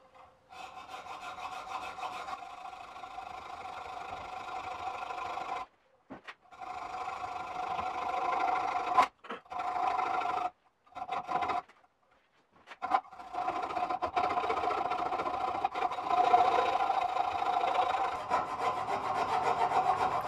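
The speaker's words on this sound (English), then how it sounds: "You can carefully cut on the bias with a hacksaw" A hacksaw cuts at an angle through the head of a tube rivet on an old knife handle, making steady close rasping strokes that pause briefly a few times before resuming.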